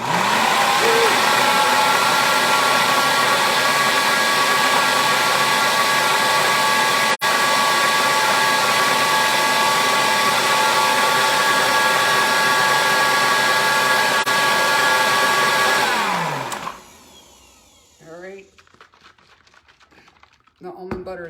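A kitchen blender whirs loudly and steadily while blending dates and almond butter, running for about sixteen seconds before winding down and stopping, followed by quieter handling noises.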